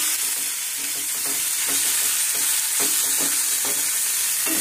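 Chopped half tomato tipped into a hot frying pan and stirred with chicken vegetables for a keto dinner, giving a steady close sizzle broken by repeated scraping stir strokes, with no talking.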